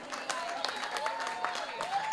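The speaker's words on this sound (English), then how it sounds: "Can you put your hands together and give it up for our sponsors?" An audience at a performing arts festival drum competition finals applauds the sponsors, with a steady patter of moderate clapping from a crowd at some distance.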